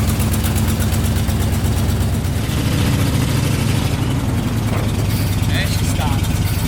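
An old farm truck's engine idles steadily with a low, continuous rumble that persists throughout, with a faint clunk as it is put into gear and no one speaking.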